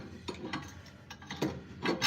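Wrench working loose a bolt on an off-road vehicle's front axle, giving several short ratcheting, grinding clicks in bursts at close range, with no voices.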